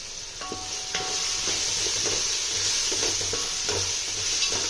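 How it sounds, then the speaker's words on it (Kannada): Marinated prawns frying in a pan as turmeric powder is stirred in, giving a steady loud sizzle with a utensil scraping and clinking in irregular strokes throughout. "ಇಲ್ಲಿ ಸ್ವಲ್ಪ ಟರ್ಮರಿಕ್ ಪೌಡರ್ನ ಮಿಕ್ಸ್ ಮಾಡ್ಕೊಳ್ತಾ ಇದ್ದೀನಿ"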